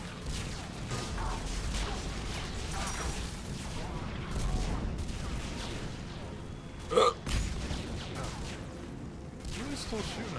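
Gunfire and explosions from combat in Mass Effect 3, scattered distant-sounding shots and muffled booms under game ambience, with one sharper burst near the middle.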